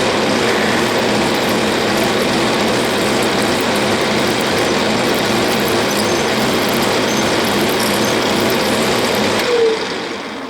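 A loud, steady mechanical roar of a three-eighths drill bit boring into a magnetic dial indicator holder, running continuously at full speed, with no pauses and no voices.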